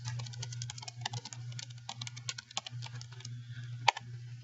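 Someone types a letter on a computer keyboard with quick, uneven key clicks and taps over a steady low hum, close and quiet, ending with one sharper keystroke.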